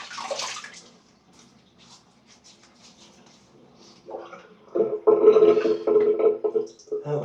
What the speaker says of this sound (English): Drain a drop of water out of the sink.